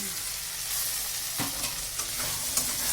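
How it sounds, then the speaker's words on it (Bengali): Potatoes fry in a hot wok and are stirred, with a steady close sizzle and occasional scraping strokes of the spatula. "এটা এখন আলুটা ভাজছি।"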